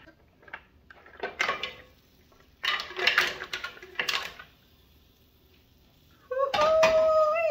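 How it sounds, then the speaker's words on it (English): Mussels in white wine garlic sauce being plated: several bursts of clattering shells, metal and crockery with quiet pauses between, ending in a bright ringing scrape against a dish. "Now let's plate these babies up."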